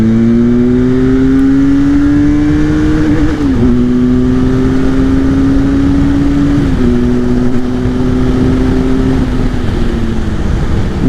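Benelli 502c motorcycle, a 500 cc twin, accelerating on the road, with a loud, steady engine drone climbing in pitch through several gear changes, close and continuous under wind noise, no talk.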